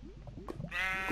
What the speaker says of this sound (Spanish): Oveja, sal de ahí, oveja.